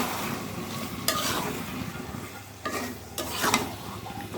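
Chicken is stir-fried in a pan, producing a loud, continuous sizzle broken by several sharp scraping strokes of a spatula.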